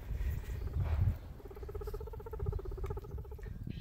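A young male guinea pig squeaks and chutters in a rapid patter of pulsing calls, close and fairly loud over rustling bedding, with no talking.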